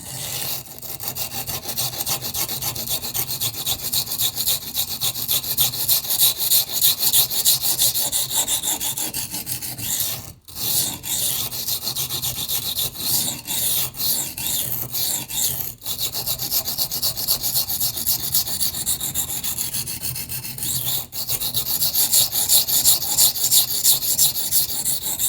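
Simple-steel budget knife drawn repeatedly across an economical silicon carbide sharpening stone, a close, continuous rhythmic rasping scrape with a few brief pauses, no talk.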